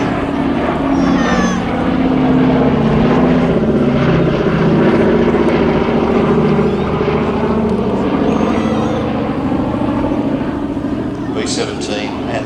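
A four-engine Boeing B-17 Flying Fortress bomber at the Midlands Air Festival gives a loud, continuous propeller-engine drone that holds steady throughout, with voices audible alongside the roar.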